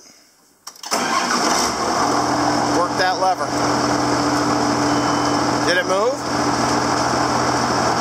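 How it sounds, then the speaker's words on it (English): A John Deere 7410 tractor with a transmission fault cranks and fires after a quiet moment, then settles into a loud, steady diesel idle close by while people talk over it. "Start the tractor up"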